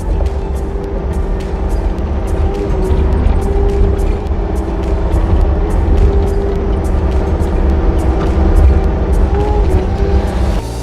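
A tracked excavator drives and turns, its engine droning steadily with a rhythmic clatter of tracks running throughout, close and loud with no talking.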